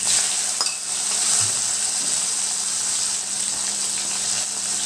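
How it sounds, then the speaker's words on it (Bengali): Prawns coated in salt and turmeric fry in hot mustard oil, giving a steady, dense, hissing sizzle that stays loud and close throughout, with a faint clink of utensils near the start. "আগে প্রথমে চিংড়ি মাছগুলো ভেজে নিই।"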